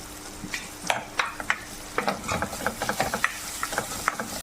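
Green chillies and coconut pieces being sautéed in a pan for a Kerala-style pork fry: a soft sizzle runs under frequent scraping and clinking stirring strokes, close and steady.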